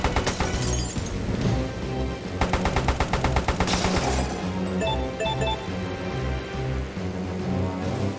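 Rapid machine-gun bursts from an enemy plane in the Airfix Dogfighter game rattle over a constant engine drone, loud and close, with clinking hits between the volleys.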